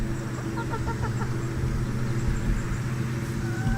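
Chickens in a chicken tractor give a few soft clucks and short calls. A steady low rumble runs underneath them the whole time.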